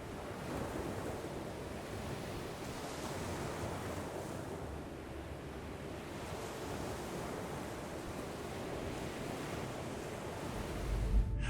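Steady broadband ocean surf rolls continuously, like seawater rushing and flooding in, with a rising gusty swell and a brief louder burst at the very end.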